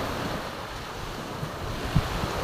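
Pacific Ocean surf washing onto the shore, a steady broadband wash with wind buffeting the microphone and a couple of brief low thumps, no voices.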